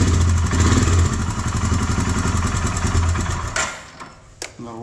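Motorcycle engine with a fuel supply problem runs with steady close clatter, then sputters and cuts off near the end, leaving a couple of brief knocks.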